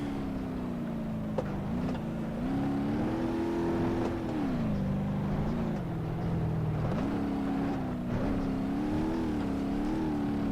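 A 1954 Burnside with an inline-six engine in BeamNG.drive, droning loudly and steadily as it revs up and down through repeated surges of acceleration, with no voices.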